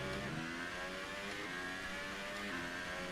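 In F1 2018, a Formula One race car on the Bahrain Grand Prix circuit drones steadily as the throttle opens. The engine's buzzing harmonic whine holds close and loud throughout.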